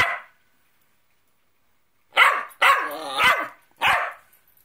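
A cockapoo barking at its owner: one short bark, a pause, then a quick cluster of three or four loud, close, vocal barks and yips with no talk over them.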